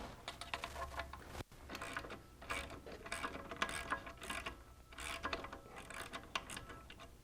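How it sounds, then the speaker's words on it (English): A ratchet fitted with a 10mm socket removes the controller bolts on a Juiced Scrambler e-bike, giving off steady rapid clicking in several close bursts with a brief pause early on. "So you're going to use your 10mm socket."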